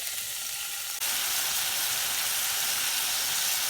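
Meat sizzles in a pan for a funchoza salad, a dense steady hiss that jumps louder as a splash of water hits the hot fat, with no voices.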